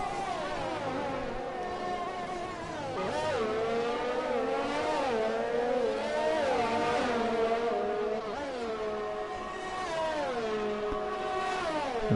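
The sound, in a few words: Williams F1 race car driving, from F1 video game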